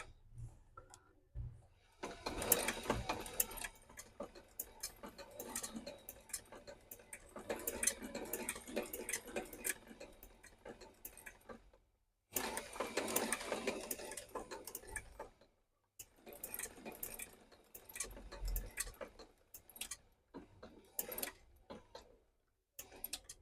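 A sewing machine sets a big stitch while repairing a Barker Kelmarsh shoe. It runs in quiet bursts of rapid ticking chatter, with a few short pauses between runs.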